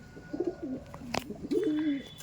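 Chennai breed pigeons coo nearby in low, rolling phrases, two or three bouts of soft burbling over a quiet background with a brief sharp click midway.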